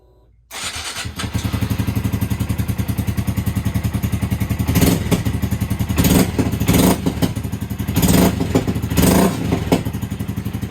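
A Honda Grom motorcycle with its stock intake starts up close by and settles into a fast, loud, pulsing idle. Revs rise several times, each bringing pops and cracks from the exhaust.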